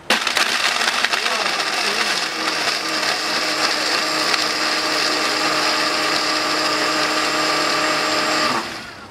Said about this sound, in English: your red blender